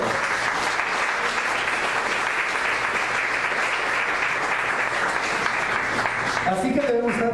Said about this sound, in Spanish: Dale una ofrenda de palmas a Él.